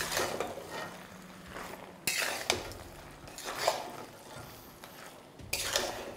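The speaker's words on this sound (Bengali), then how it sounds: "আর এই ময়দাটা দেওয়ার পরে ভালো করে একবার মিশিয়ে নিন।" Flour is stirred into a fish-head chhyachra curry in a pan, giving repeated scraping and clinking strokes of a spoon against metal, close and uneven in rhythm.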